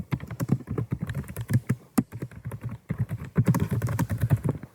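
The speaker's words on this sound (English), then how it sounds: "We can type some characters." Rapid keystrokes clatter on a computer keyboard while characters are typed into a notepad to test a small reprogrammable keypad. The taps come in quick irregular bursts, close and crisp, with brief pauses and no voices.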